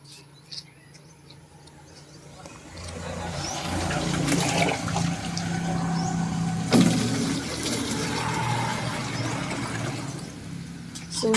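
Water drawn by hand from a rural provincial source for carrying, a rising rushing gush that swells after a quiet start and continues steadily, with insects and a distant engine in the background.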